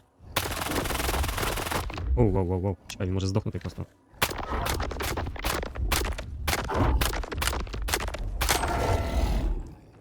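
Rapid bursts of STALKER 2 video game gunfire crackle in quick succession close up, with an excited voice exclaiming briefly before the shooting resumes.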